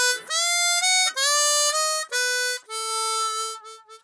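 A chromatic harmonica tuned to C plays a short, smooth slow blues phrase in E of sustained reedy notes with small bends, close and solo.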